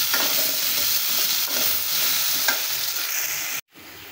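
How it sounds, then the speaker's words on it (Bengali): Potatoes and broiler chicken frying in a pan while being stirred, a loud continuous sizzle with scraping stir strokes, close by, cutting off abruptly near the end. "তো এইভাবে আলু এবং মাংস ভেজে রান্না করলে খেতে খুব টেস্ট লাগে।"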